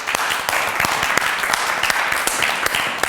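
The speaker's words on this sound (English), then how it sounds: "Everybody, please help me with a big round of applause." A live audience applauds loudly and continuously, with dense clapping and sharp individual claps standing out throughout.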